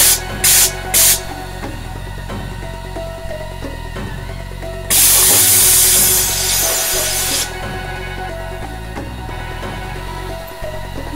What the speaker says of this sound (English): Steam clean it a little bit.